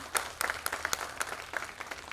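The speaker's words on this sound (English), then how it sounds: "you can clap louder" Faint, scattered clapping from an audience at a Bangalore literature festival session, sparse individual claps rising out of a soft crowd wash over about two seconds.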